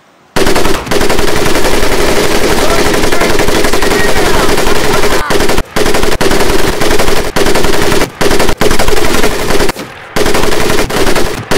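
Sustained bursts of machine gun fire in the World War II shooter Medal of Honor Pacific Assault, loud and close, with a few brief pauses between long volleys.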